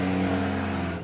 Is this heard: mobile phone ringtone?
no